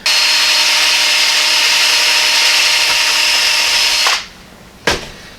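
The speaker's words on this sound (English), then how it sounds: "drill through this and put a cotter key through this heim joint, through the rod" A power drill bores a small hole through a heim joint and rod on a Model A hot rod shop truck, a loud steady whine for about four seconds that cuts off, then one short burst.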